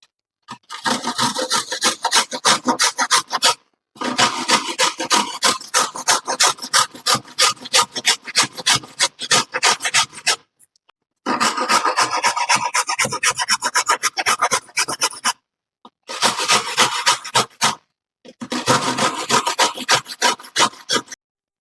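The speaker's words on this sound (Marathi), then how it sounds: "आता पहा ह्या ठिकाणी आपण खोबरे खिसून घेणार आहे" Coconut is grated by hand in a home kitchen, producing close, rapid scraping rasps in several long bursts separated by short pauses.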